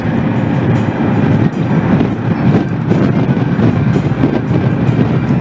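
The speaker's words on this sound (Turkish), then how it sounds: "Karşıdan biraz rüzgar da geliyor." Headwind rushes loudly and steadily against the microphone while riding a Honda PCX 125 scooter at about 80 km/h, a heavy buffeting roar with a rumbling low end, no voices.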